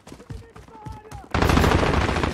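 A video game weapon opens up in a loud, close burst of rapid gunfire that runs to the end, after a few softer thumps and brief voice-like tones.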